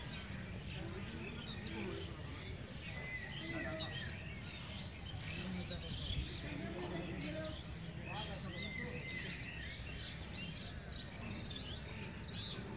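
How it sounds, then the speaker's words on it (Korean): Magpie calls chirp repeatedly over a busy outdoor zoo background, with people talking nearby; the calls are moderately distant and intermittent. "저기 뛰는 놈은 까치네"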